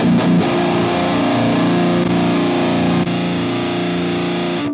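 Heavily distorted high-gain metalcore guitar from a Fractal FM3 through a 4x12 Rectifier cabinet miked with a 57, a loud sustained chord ringing for several seconds before cutting off abruptly.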